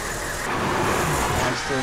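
Video game vehicle engine idling and running steadily, a dense continuous rumble with road-like noise throughout, mixed under voices talking.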